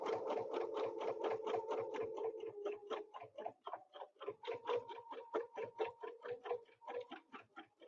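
Domestic sewing machine running a double line of stitching along a Westalee Snowflake ruler template for quilting, a steady rapid needle rhythm that slows into spaced stitches partway through, close and alone.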